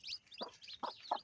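Mother hen and chicks while feeding: high, thin chick peeps chirp continuously, broken by three low, soft clucks from the hen, all heard close and clear with no talking.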